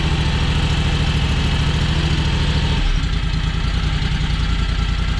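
A John Deere X585 lawn tractor engine idles steadily and loudly up close, a continuous low rumble that drops to a slightly lower, rougher idle partway through.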